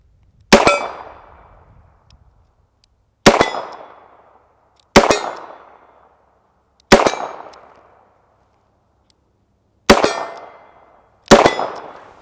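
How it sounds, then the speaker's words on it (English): Six sharp revolver shots from a Smith & Wesson K-22 fired double action, each followed by a ringing clang as the bullet strikes 12-inch steel plates, spaced a few seconds apart and loud against quiet surroundings. "We'll shoot it in double action just a little bit here."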